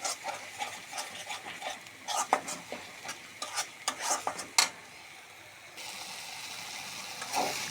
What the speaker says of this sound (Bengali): আমরা সুন্দর করে এখন মশলাটাকে কষিয়ে নেব।